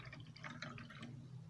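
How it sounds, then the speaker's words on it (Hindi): Water is poured into a toy washing machine, a soft, faint trickle and splash lasting a moment, close by and without talk. "ये पानी डाल दिया इसमें"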